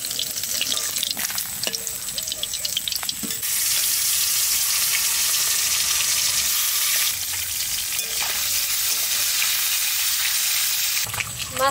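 Koi fish frying in a pan of oil, close loud sizzling with occasional stirring clatter, the hiss swelling into a steady roar midway and easing near the end.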